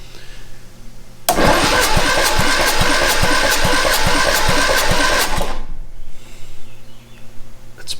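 An Austin-Healey Sprite engine, just out of ten years' storage, cranks on the starter for a compression test, a loud rhythmic chugging whir of about four seconds with regular compression pulses, then stops, leaving quiet room noise.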